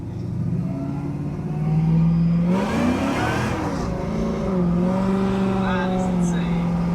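A modified muscle car's engine idles, then revs hard and accelerates with a rising roar, easing and climbing again, heard close up.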